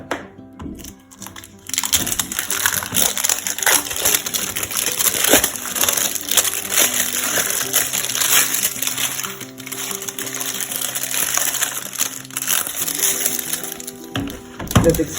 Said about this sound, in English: That's extremely noisy packaging.